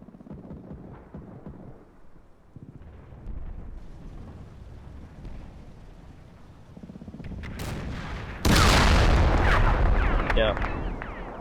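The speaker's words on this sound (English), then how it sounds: "definitely seems like there is a gun or vehicle trying to fire against my troop" Gunfire and explosions in the Combat Mission Red Thunder war game during a German probe attack, with scattered shots building to a loud, sustained burst of heavy fire and blasts toward the end.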